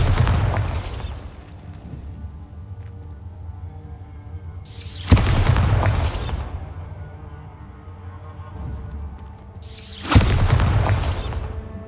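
Three heavy explosions from the Bombarda spell in the Hogwarts Legacy video game, spaced about five seconds apart. Each is a sharp loud burst that rolls into a rumbling, slowly fading tail.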